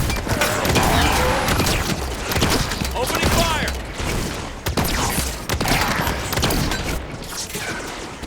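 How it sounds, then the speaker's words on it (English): Gunfire in the Halo 5 video game, dense bursts of shots and crashing impacts running nearly nonstop with brief gaps, loud and close, with voices calling out over the battle. "Opening fire!"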